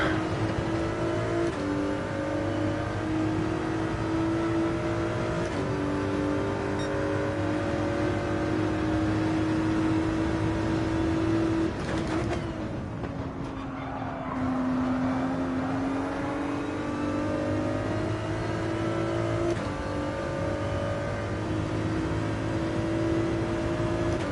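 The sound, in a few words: Porsche race car engines in Gran Turismo 7 video game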